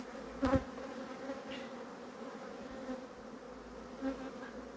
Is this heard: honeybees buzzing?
yes